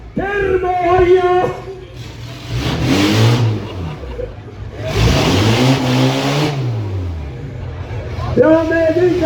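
Rally car number 6 at the Antsla Romuralli, heard accelerating hard with rising and falling engine revs in two loud passes, while a commentator talks over it at the start and end.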